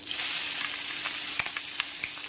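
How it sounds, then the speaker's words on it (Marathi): Mustard seeds, cumin and garlic–green chili paste sizzle steadily in hot oil, a dense bright crackle with a few sharp pops and spatters toward the end, close and continuous. "त्याच्यामध्ये आपण थोडीशी अगदी थोडीशी मोहरी टाकूया त्याच्यानंतर जिरे टाकूया तर आपली ही जी लसूण आणि हिरे मिरची पेस्ट होती ती टाकून देऊ"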